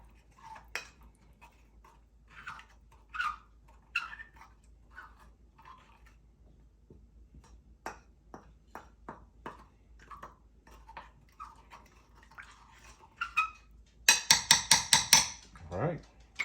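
Cornstarch sauce for chicken and broccoli being mixed in a bowl: scattered light clinks and taps of a utensil against the bowl, ending in a fast burst of rapid, louder scraping strokes.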